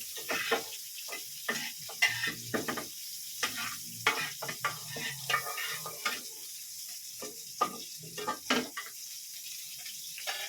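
Butter sizzles and crackles steadily in a hot pan, ready for a ham and cheese omelet, with soft irregular pops and faint utensil scrapes throughout.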